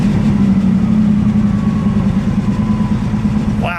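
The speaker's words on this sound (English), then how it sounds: "Go ahead, Steve, give it a rev" A 1953 Buick Skylark engine runs steadily and loudly throughout, a low, even idle-to-rev rumble with no speech over it.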